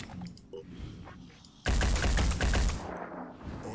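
Loud burst of rapid automatic gunfire in the turn-based strategy game Phoenix Point, erupting after a quieter stretch and rattling on for about a second before trailing off into ambient game noise.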